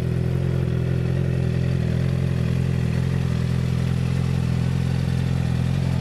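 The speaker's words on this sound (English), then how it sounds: "This one has a nice sounding exhaust system with it." A 2007 Suzuki GSX-R750 motorcycle idles with a steady, loud engine and exhaust drone, a low throbbing rumble with light mechanical clatter that holds constant and close throughout.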